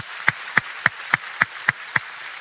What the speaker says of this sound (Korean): 그분들을 위해 다시 한번 박수 한번 해드리겠습니다